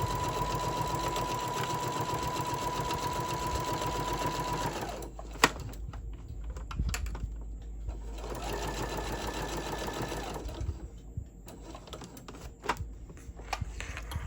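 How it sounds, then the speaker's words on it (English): Sewing machine stitching all the way around a beginner's Halloween-themed zipper pouch, a steady close mechanical whir that runs continuously for several seconds, then breaks into shorter bursts with pauses between them. "Keep sewing, going all the way around to the end."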